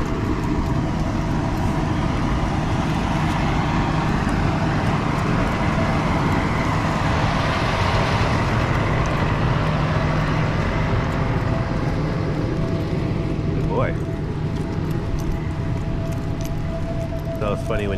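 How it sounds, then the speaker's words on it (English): A big, loud water truck rumbles past on a road during a walk with a puppy, giving a heavy, steady roar close by that fills the whole stretch and eases slightly toward the end. "Got a big loud water truck here."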